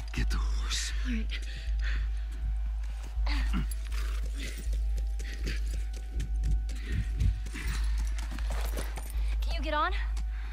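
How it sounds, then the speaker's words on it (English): Horse hooves clip-clop in The Last of Us, a steady rhythmic trot of moderate loudness under a low droning game ambience, with brief speech and whispers over it. "Just get the horse."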